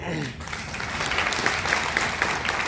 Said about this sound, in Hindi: एक बार फिर अपने तालियां